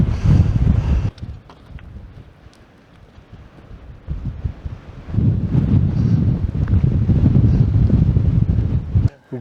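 Strong gusts buffet the microphone on the Košuta mountain ridge, rumbling loudly, easing to a lull in the middle, then surging again until a sudden stop.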